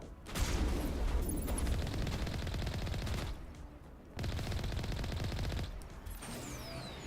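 Video game gunfire crackles in dense, rapid bursts, with brief pauses between volleys and fairly faint overall.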